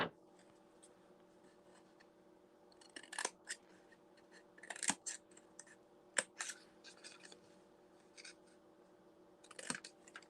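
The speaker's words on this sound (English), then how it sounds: "So I'll just grab my scissors." Scissors snipping through paper while making a faux gift bag card, a few short crisp cuts in quick bursts over a quiet background, fairly close.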